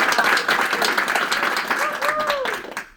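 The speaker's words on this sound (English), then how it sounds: "Please give them applause." An audience at a book event applauding, a dense, steady wash of clapping from many hands filling the room, with voices and a few whoops mixed in.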